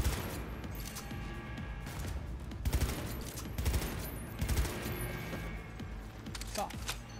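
Video game gunfire from Cyberpunk 2077, rapid automatic bursts rattling in several loud clusters until the weapon overheats, set against a dense, noisy background of game sound.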